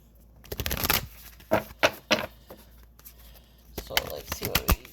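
Riffling card shuffles come in several quick bursts, close and fairly loud, with brief pauses between them.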